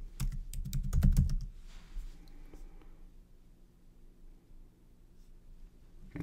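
Quick bursts of computer keyboard typing clatter up close for about two seconds, a rapid cluster of key clicks, then the room falls to a quiet hum.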